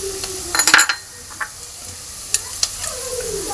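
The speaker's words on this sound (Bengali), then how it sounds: "পেঁয়াজটা আমার ভাজা হয়ে গেছে, একটু অল্প অল্প করে দিয়ে দেবো লঙ্কা গুঁড়ো" Onions fry and sizzle in a pan as chili powder is added for an egg chicken tarka, with steady frying hiss and a few sharp metallic scrapes and clinks of stirring.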